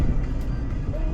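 Car driving at high speed on a freeway, a brief steady rush of engine and road noise, close and continuous, with no voices.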